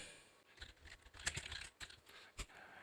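Rapid irregular clicks of keys typed on a computer keyboard, light close taps in quick bursts with a few louder strokes, no talk.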